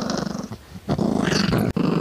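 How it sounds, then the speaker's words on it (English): Dog growling close by, a long rumbling growl in two or three surges with a short break between them. "Merlin holds the record for the greatest In-N-Out growl"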